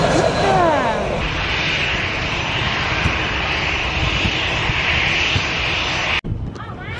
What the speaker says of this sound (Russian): А вот и первый самолет. Садит и прямо на пляже.